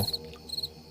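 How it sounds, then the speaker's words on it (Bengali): Crickets chirp at night, a soft steady trill with a few brief pulsing bursts, faint and distant against the quiet. "দূরে ঝিঝি পোকার ডাক।"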